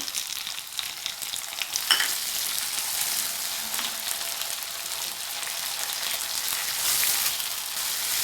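Tomato sautéing in a kadai after ginger and garlic, giving a steady close sizzle with occasional stirring scrapes, no voices.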